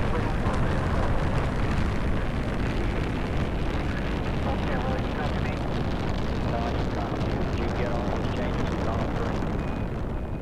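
A rocket launching in Kerbal Space Program roars in a dense, steady rumble that stays loud and unbroken throughout, with a voice talking underneath.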